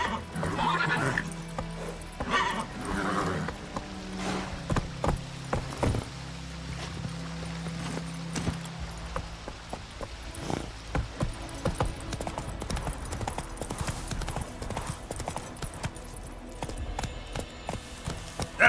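Roach, the horse in The Witcher 3, gallops with steady clip-clopping hooves and lets out neighs and whinnies over a busy game soundscape.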